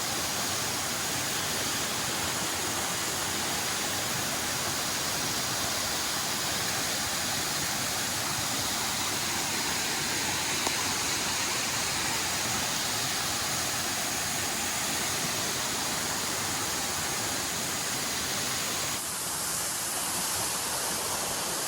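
Don Juan waterfalls in El Salvador pour in a steady, dense roar of rushing water that fills the whole clip at constant loudness, with no voices over it.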